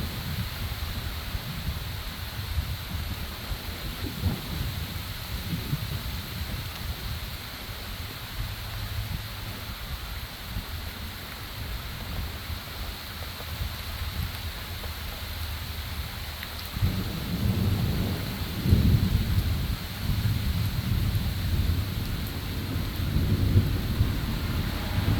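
Steady rain pours down outdoors with low thunder rumbling through it, the thunder swelling louder in the latter half, and no voices.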